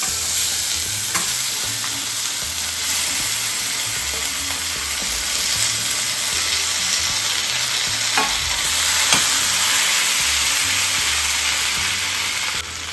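Red chili and turmeric sizzling in hot oil for turmeric pickle, a loud steady crackling fry with occasional stirring scrapes, close by and with no talking.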